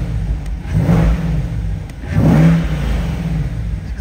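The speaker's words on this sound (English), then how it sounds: "I'm gonna turn on the headlights and a good couple revs for you guys." A 2020 Chevrolet Corvette C8 coupe revs twice with the door open, each throttle blip swelling into a deep, close, loud engine roar and falling back to a steady idle rumble.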